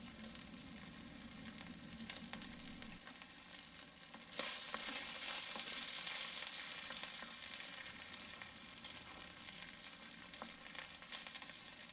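Beef and broccolini sizzle in sauce in a pan, a steady soft hiss that swells suddenly louder partway through and then holds, with no voices.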